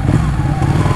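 A Ducati Panigale 899 superbike running in second gear on a test ride, its engine a steady, deep rumble with a throbbing low drone, close and loud throughout without speech.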